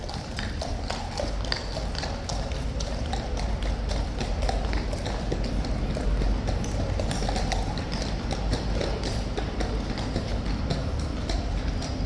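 A Life Guards horse clip-clops on hard ground as it refuses to turn back into its box, giving steady, close hoofbeats with irregular shuffling steps over a constant background hum.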